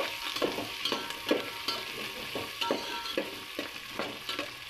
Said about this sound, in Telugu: సన్నగా తరిగి పెట్టుకున్న ఉల్లిపాయలు, పచ్చిమిర్చి, క్యారెట్, బంగాళదుంప మొత్తం వేసుకొని ఫ్రై చేసుకోవాలి